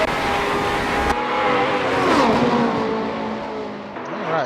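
Open-wheel race car engine in a racing video game at Hockenheim, revving loudly with a sustained high whine that rises and falls through gear changes and sweeps in pitch as the car speeds along, no talk over it.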